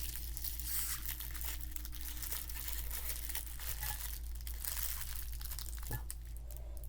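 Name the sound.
crinkling yellow cellophane snack wrapper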